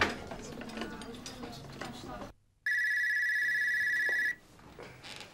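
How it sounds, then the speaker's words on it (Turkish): A telephone rings on an outgoing call, a single long, loud electronic ring tone in the middle, preceded by indistinct background noise and followed by a quieter stretch. "Ben en iyisi bir Sadık'ı arayayım."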